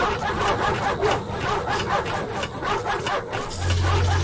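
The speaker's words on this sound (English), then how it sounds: "Just have to deal with all the barking dogs." Barking dogs in the Ratchet & Clank video game aboard Drek's flagship, repeated yips and barks in a steady rhythm over game background noise, with a low hum appearing near the end.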